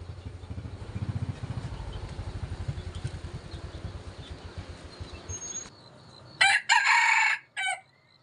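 Rapid low clucking and rhythmic engine-like chugging run under a farmyard morning among young chickens, then a loud rooster crows in bursts up close near the end.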